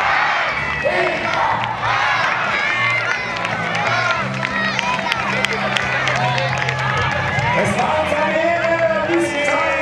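A large crowd at a knights' tournament in Königstein im Taunus chants a name loudly and repeatedly in a steady rhythm, mixed with cheering and clapping, a dense roar that stays loud throughout.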